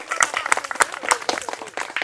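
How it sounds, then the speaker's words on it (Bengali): Audience clapping for a contestant in a challenge of dropping a football and catching it in a basket, a scattered burst of hand claps with crowd noise, moderately loud and fairly close. "আমাদের এই প্রতিযোগীর জন্য একটি জোরে করে করতালি হয়ে যাক"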